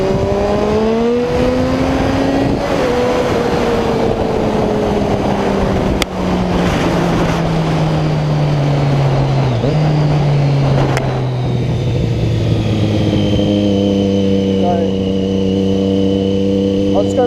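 A Triumph Street Triple motorcycle engine pulls hard in second gear after the clutch is let out, its loud rising then falling engine note sweeping steadily with wind rush, and a rider talks over it.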